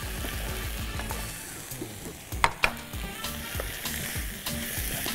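Cubed boiled potatoes and vegetables frying in a pan, continuous close sizzle with scraping stirs and a couple of sharper clinks of the spoon against the pan.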